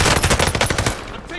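A rapid burst of automatic gunfire in a shooter video game, loud and close, rattles for about a second before cutting off.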